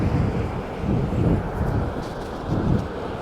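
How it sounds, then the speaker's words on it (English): Loud wind buffeting a microphone outdoors at a shopping district, a heavy low rumble that swells in gusts and stays constant with no other clear sounds. "this wind is really, really loud here"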